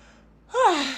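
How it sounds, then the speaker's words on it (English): A single breathy yawn rises from near silence, opening with a sharp intake and trailing off into a long, voiced exhale. "there's the yawn again"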